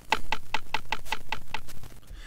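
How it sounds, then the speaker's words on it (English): Minecraft note blocks in a video game play a quick run of eighth notes, about eight short bright plucked tones in a brisk even rhythm, close and alone, ending in a brief quiet tail. "Now, eighth notes sound like this."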